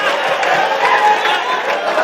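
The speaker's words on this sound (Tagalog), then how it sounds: "Ang taming crowd reaction." A crowd at a FlipTop rap battle reacts with a dense, loud wash of cheering and chatter, sustained throughout the brief moment.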